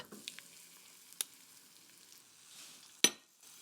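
Eggs frying in a pan, cooked over-medium, give a faint, steady sizzle with a few soft ticks, then one sharp clink near the end.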